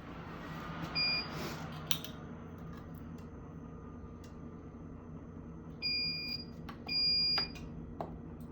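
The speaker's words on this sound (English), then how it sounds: "We're going to turn off the loud beeping" A pump machine alarm sounds electronic beeps: a short beep early on, then two longer, loud tones near the end over a low steady hum.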